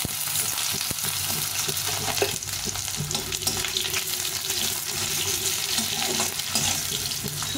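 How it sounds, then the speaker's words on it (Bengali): Cut potato added to hot oil tempered with radhuni spice, giving a loud, dense, continuous sizzle close by with faint clinks of a utensil, no voices. "প্রথমে আলুটা দিয়ে দেবো, একটা আলু কেটে নিয়েছি।"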